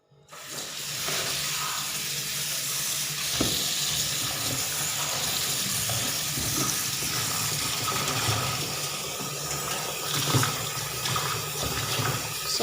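Tap water running steadily into a kitchen sink while vegetables are washed, a continuous close splashing gush with occasional clatter and no talk.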